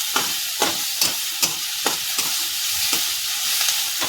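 Chopped onions sizzling in a hot pan for pithla while a spoon scrapes and stirs, a steady frying hiss with regular close scraping strokes about every half second, no voices.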